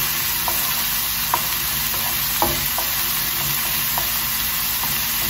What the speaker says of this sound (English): Let the onions cook until they brown.